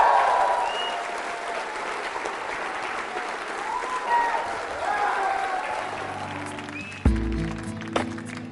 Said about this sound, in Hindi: जोरदार तरीके से, जोरदार तालियां